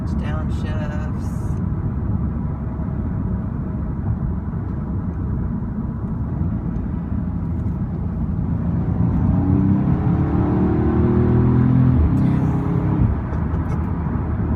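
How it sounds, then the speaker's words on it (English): The engine of a 2015 Audi S3 blips and revs through rev-matched downshifts while cornering, heard from inside the car as a constant low drone that rises in pitch near the end. "Some nice rough match downshifts."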